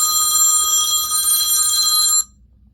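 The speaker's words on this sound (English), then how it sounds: "It's for the other phone, the kid's phone." A phone rings loudly and close with a bright, steady electronic trill that stops abruptly after about two seconds, leaving faint room noise.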